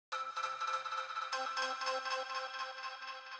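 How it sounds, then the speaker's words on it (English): A bell layer synth patch from the Nexus plugin plays a short melodic phrase of bright, ringing tones with clear attacks and lingering decay, heard alone and up close. "bell layer from Nexus that sounds like this"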